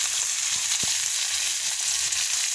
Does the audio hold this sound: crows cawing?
no